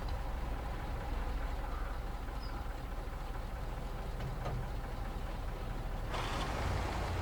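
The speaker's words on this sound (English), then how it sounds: "Start engine." A truck engine in the off-road driving game Snowrunner holds a steady low rumble, then surges into a louder, fuller roar as it starts near the end.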